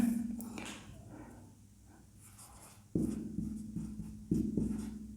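Marker or chalk writing on a board during a history lesson, a soft scratchy stroking that runs quietly, then returns louder in bursts later on, with no talking.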